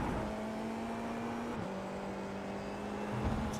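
Formula 4 race car in the iRacing simulator downshifting while braking, a steady engine drone whose pitch drops sharply at a gear change, then holds lower with another brief blip near the end, no voices.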